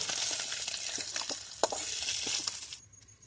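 Small chuno puti fish fry in hot oil with a busy, crackling sizzle and occasional spatter pops, then the sound drops away abruptly near the end.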